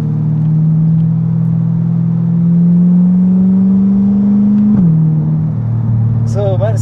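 A 2021 Corvette Stingray C8 with exhaust valves hums in a loud, steady low drone that slowly rises in pitch, then drops abruptly, with a brief voice near the end.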